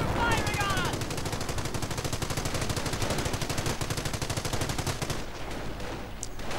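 Sustained machine gun fire rattles in a war video game, rapid bursts repeating densely for several seconds before tapering off near the end, with other battle noise underneath.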